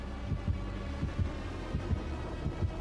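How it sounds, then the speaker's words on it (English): Heartbeat warning in the video game Dead by Daylight, a steady low thumping pulse of double beats repeating about twice a second under a constant hum, fairly faint. "the heartbeat's still loud"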